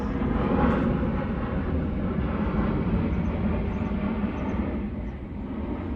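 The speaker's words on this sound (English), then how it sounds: "That airplane is pretty loud" A steady, loud low roar of an airplane passing overhead fills the whole stretch, broad and droning without pause, with no voices.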